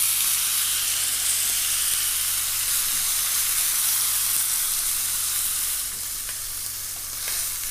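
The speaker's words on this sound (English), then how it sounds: "Another little sear on its skin." Steak searing in a hot pan, its fatty edge and skin against the metal, giving a loud, steady, close sizzle that hisses continuously and eases slightly near the end.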